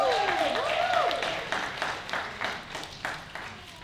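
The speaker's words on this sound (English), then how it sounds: "Let's give them a round of applause." Audience applause at a Dr. Martin Luther King Jr. community conference in Framingham, a sustained patter of many hands clapping that slowly thins and fades, with a voice over the start.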